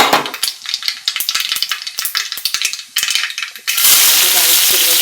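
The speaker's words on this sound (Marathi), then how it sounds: "मोहरी चांगली तडतडली की त्यामध्ये जिरं," Mustard seeds and cumin crackle and pop in hot oil in a kadhai, a dense run of sharp close crackles that gives way to a steady loud sizzle near the end.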